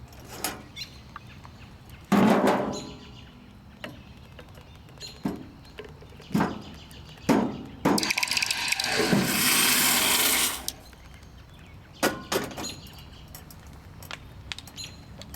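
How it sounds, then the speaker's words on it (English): Molten lead is poured into boiling water in a lab, giving sharp crackling bursts and a loud sustained hissing sizzle of several seconds, then scattered pops, with no talk. "pour the liquid lead into the liquid water"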